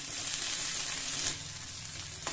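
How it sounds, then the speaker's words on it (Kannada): Mustard seeds, cumin, onion and curry leaves fry in oil, giving a soft continuous sizzle at low level with a brief stir near the end. "ಸಾಸಿವೆ, ಜೀರಿಗೆ, ಈರುಳ್ಳಿ, ಕರಿಬೇವು ಸೊಪ್ಪು ಫ್ರೈ ಮಾಡ್ಕೊಂಡು"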